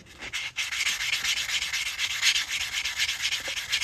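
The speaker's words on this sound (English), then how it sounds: "So the first step is to sand this cut edge." The cut edge of a silver 1949 quarter being sanded with a small nail file block while making a coin ring: close, continuous rhythmic rasping strokes, steady and fairly loud, with no speech.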